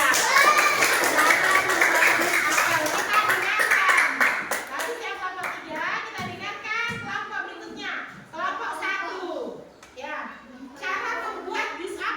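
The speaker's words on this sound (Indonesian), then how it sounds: "Oke, tepuk tangan untuk kelompok 3." A classroom of children clapping for group 3 during a coding lesson, a short burst of applause for about four seconds, followed by children talking.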